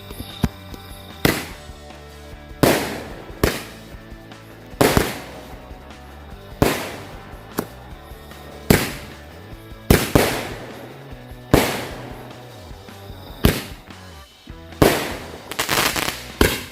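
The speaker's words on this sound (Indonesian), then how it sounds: "yang pertama kita nyalakan 2 buah mercon Roman Candle" Two Roman candle fireworks fire repeatedly at night, each loud pop followed by a crackling fizz, a steady series of about a dozen bursts close by.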